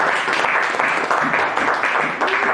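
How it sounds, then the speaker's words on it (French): Church congregation applauding and cheering after a sermon, a dense, loud, steady wave of clapping from many people that fills the room without pause. "Est-ce que quelqu'un peut acclamer pour la parole?"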